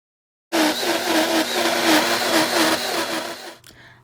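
A blender whirs loudly for about three seconds, blending birria broth ingredients for ramen, a steady close motor whine with a pulsing churn, starting abruptly and cutting off at the end.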